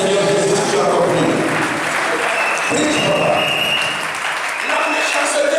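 A church congregation at a Christian service claps and cheers in praise of Jesus, a loud continuous wash of applause with voices mixed in throughout.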